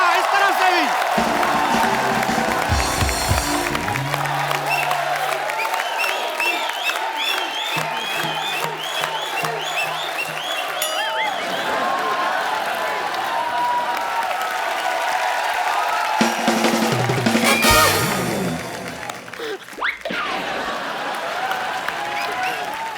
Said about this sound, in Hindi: जोरदार तालियां इस तरफ से भी.